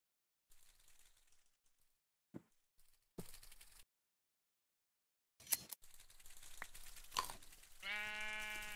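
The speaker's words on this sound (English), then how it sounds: "Off to shear some sheep." Sheep bleating in a Minecraft mod, a few short bleats scattered among soft crunching and rustling game sounds, with one longer, steadier bleat near the end.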